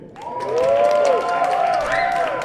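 An audience at the Frisco International Arts and Culture Festival applauds and cheers for performer Bobby Kaboye, a crowd clapping steadily while a voice carries over the top.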